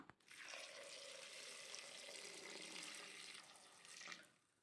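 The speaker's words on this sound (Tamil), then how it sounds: "அடுத்ததாக தேவையான அளவுக்கு தண்ணி ஆட் பண்ணிக்கலாம்." Water pours steadily into a cooking pot of lentils and vegetables for sambar in one continuous, rushing stream, close by, tapering off at the end.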